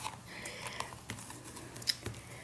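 Scissors trimming fabric scraps: several quiet, close snips in an uneven rhythm, with one crisper cut near the end, alone without talk.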